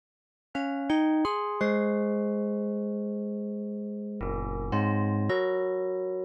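Synthesized tubular bells patch on a Multiphonics CV-3, a series of struck bell-like tones with bright metallic attacks and long ringing decays, several notes sounding in turn and overlapping, with no voices.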